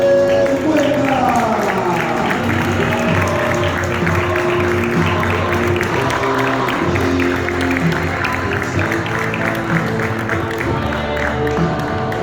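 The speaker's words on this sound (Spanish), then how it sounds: "recibir una vez más con una fuerte ovación al campeón con el carro número 28" A crowd at a karting track gives an ovation for the champion of kart number 28, with sustained applause and scattered cheers under an announcer's voice.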